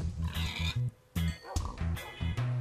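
Pigs in the Minecraft video game oink and squeal in a quick, repeated series of loud, close grunts with only brief pauses between calls.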